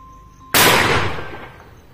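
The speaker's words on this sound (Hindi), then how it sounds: "तो अब फिर वही 12-13 मीटर से फायर कर रहे हैं हम" A Manton and Co double barrel shotgun fired from its full choke barrel at about 12 to 13 meters outdoors: one sharp, loud blast after a quiet lead-in, followed by a long fading echo.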